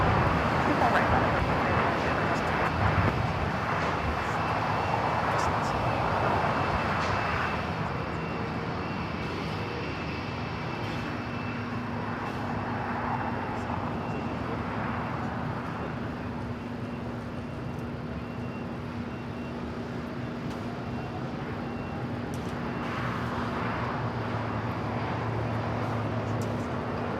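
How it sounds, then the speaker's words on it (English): A heavy Turkish Airlines Boeing 777 with GE90 engines takes off from the north runway complex at LAX, its steady distant roar sustained throughout under a broadband wash of airport noise. "I think I hear Turkish taking off on the north side."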